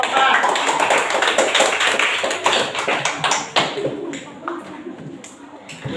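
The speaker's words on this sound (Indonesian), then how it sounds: "Kita tepuk tangan untuk kelompok 4." A class applauds group 4, many hands clapping densely before the sound thins and fades, with talking in the room.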